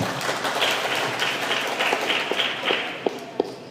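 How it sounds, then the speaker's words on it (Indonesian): Applause for Pak Nur, former two-term mayor of Depok, at a council assembly: steady broadband clapping from a crowd that carries through the whole stretch, with a couple of sharper claps standing out near the end. "Berikan aplaus buat Pak Nur."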